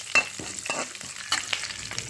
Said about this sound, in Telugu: ఇప్పుడు మాత్రం మనం ఉల్లిపాయలు వేసుకోవాలి, పచ్చిమిరపకాయలు వేసుకోవాలి